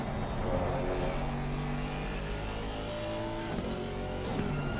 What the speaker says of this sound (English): You can see Dylan in that black Aston gaining a lot of ground as they go through turn 4.